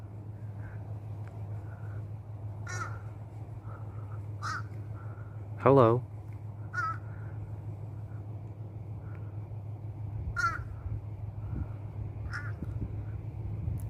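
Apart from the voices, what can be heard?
single crow cawing in a park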